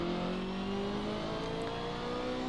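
A BMW race car in the Assetto Corsa racing game, on the Nürburgring GP circuit, drones steadily with a continuous mid-pitched engine tone that slides in pitch through a shift, loud and close with no talk.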